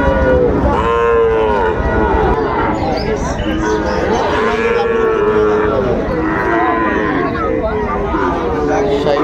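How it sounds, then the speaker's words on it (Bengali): A Sahiwal bull calf moos loudly and close at a cattle market, giving repeated drawn-out calls over a busy crowd murmur. "শাহিওয়ালের ষাঁড় বাচ্চা।"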